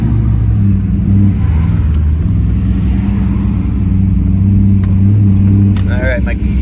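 A Chevrolet Corvette C5 with a homemade splitter pulls hard in first gear, its engine droning loud and steady from inside the cabin, with brief tones and clicks near the end.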